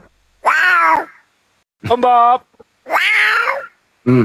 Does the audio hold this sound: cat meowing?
yes